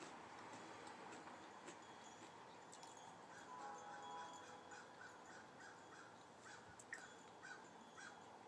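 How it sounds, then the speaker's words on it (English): A distant train rumbles faintly and steadily while crows caw intermittently nearby in an open outdoor setting. "I just heard a train."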